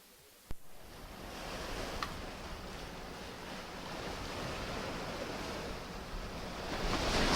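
Surf rolls in on Red Beach, Guadalcanal, a broad, steady wash of waves under some wind, beginning after a short thump and swelling slightly toward the end.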